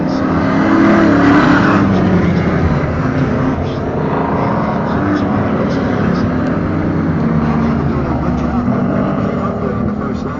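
Big bore race cars racing at the Waterford Hills road course: loud, continuous engine roar with rising and falling revs as cars pass, heard close up, with a commentator talking over it.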